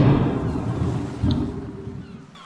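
Thunderstorm effect for a stormy sky in a fairy tale: a deep, rolling thunder rumble with rain-like hiss, loudest at the start, swelling again briefly midway, then slowly fading.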